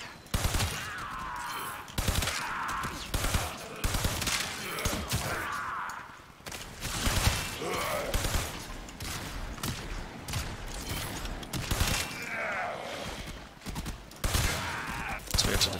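Weapon fire in the video game Warframe during a defense mission, with repeated rapid bursts of automatic gunfire and impacts, loud and continuous across the whole stretch with short gaps between volleys.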